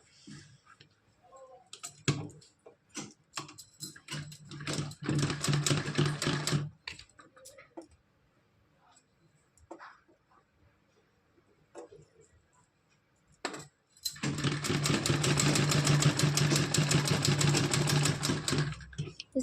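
Electric sewing machine stitching a small Kanha ji dress, with two long, steady whirring runs, one early and one at the end, separated by short clicks and handling taps of the fabric.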